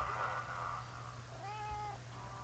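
A house cat gives a single faint, drawn-out meow against a quiet background hum, with no talking.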